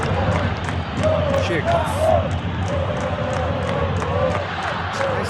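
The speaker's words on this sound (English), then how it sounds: "you can hear how the crowd are reacting to this too" A football stadium crowd reacts during a match, a steady roar with occasional rising shouts running beneath a commentator's continuous talk.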